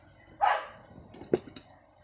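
A dog barks outdoors, one loud bark followed by a few shorter, fainter yips, all nearby and brief with no talk over them.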